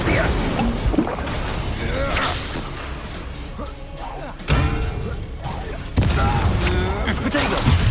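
Spell combat in Hogwarts Legacy, with the Incendio fire spell cast amid crashes, whooshes and impact bursts that swell and strike sharply several times, mixed with character voices.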